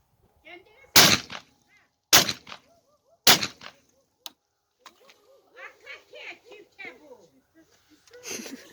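Three loud, sharp shots from an automatic shotgun fired outdoors about a second apart, each cracking close, followed by a smaller pop and then people talking and laughing afterward.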